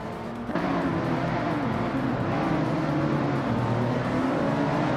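A 2017 Renault Megane Trophy race car engine in a racing video game drones steadily at high revs, close and continuous, with a sudden rise in intensity near the start.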